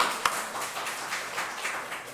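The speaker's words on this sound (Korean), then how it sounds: "박수 한번 쳐주시죠." A church congregation claps for a child at a Sunday service, with soft, diffuse applause that opens with one sharper clap and then continues faintly at a distance.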